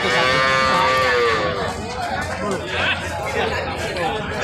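A bullock lowing loudly at a busy cattle market in Panchbibi, a long drawn-out moo close by over constant crowd chatter and background talk.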